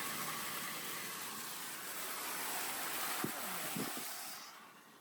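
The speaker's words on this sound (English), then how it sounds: "we're going through water" A vehicle rolls through water on a wet floodway road, giving a continuous broad hiss and splash of spray under a low engine drone, easing off near the end with a couple of sharp knocks.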